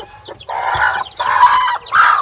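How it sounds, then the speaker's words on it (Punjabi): A Black Aseel hen with chicks clucks and squawks in three loud, agitated bursts close up, with brief quiet gaps between them. "ਮੁਰਗੀ ਨੂੰ ਅੱਡ ਚੱਕ ਲੈਨੇ ਆ"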